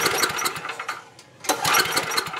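A Tecumseh small-engine generator is pull-started: two bursts of rough, choppy cranking close by, separated by a brief lull around the second pull, with no talking.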